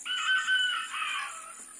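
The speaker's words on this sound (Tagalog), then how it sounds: "maraming yung native na chicken na walang may ari" Native chicken crowing once, a single clear call of about two seconds, close and fairly loud with no other sounds around it.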